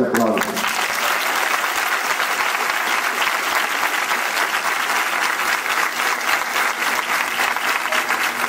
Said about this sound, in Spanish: pido a los graduandos pues un fuerte aplauso.